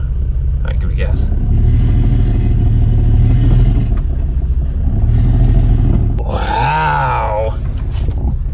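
Engine of an '05 Acura TL, fresh from a transmission filter and fluid change, revving up as gas is given, with a loud low rumble that climbs and swells, plus people talking and reacting.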